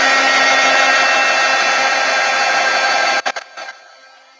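A heat gun or hair dryer blows steadily and loudly over a paint pour, a constant close airy roar that cuts off near the end with a few clicks.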